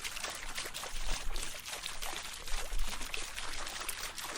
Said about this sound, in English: I wanna use this other water recording that we did to create a second groove